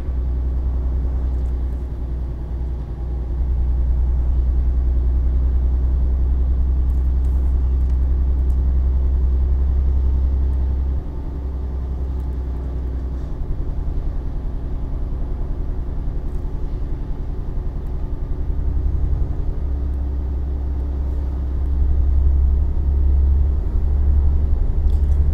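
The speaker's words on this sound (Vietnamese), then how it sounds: "Anh thấy nó ồn vãi nồi, kiểu là động cơ máy nó bự." A Toyota Innova taxi's engine in Euro Truck Simulator 2, a steady low droning rumble that swells and eases as the car cruises, with no talking.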